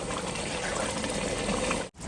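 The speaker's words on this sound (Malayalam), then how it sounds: "നമ്മൾ വെള്ളം കളഞ്ഞു വെച്ചിരിക്കുന്ന നമ്മുടെ അരി പതുക്കെ നമ്മുടെ ഗ്രേവിക്കകത്തോട്ട് നമ്മൾ ഇട്ട് കൊടുക്കുകയാണ്" Drained rice tipped slowly into chicken gravy for mixed biryani gives a steady, close, wet pouring rush that runs about two seconds and then cuts off abruptly.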